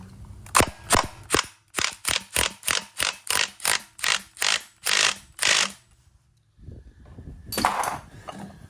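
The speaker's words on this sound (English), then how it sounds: "We're gonna go ahead and torque this down, 17mm socket." A 17mm socket tightens a bolt on a 2023 Suzuki King Quad 750 ATV, making a rapid series of about a dozen sharp, evenly spaced mechanical bursts, then a pause and a softer rattling clatter.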